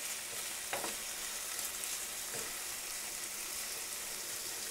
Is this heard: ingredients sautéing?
yes